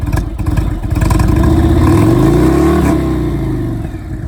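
A loud 2017 Indian Springfield motorcycle engine revs up close, its pitch climbing then easing back down to a rumbling idle.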